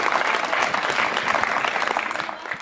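An audience claps steadily through a comedy poetry show, a dense, even patter of many hands that holds throughout and thins slightly at the end.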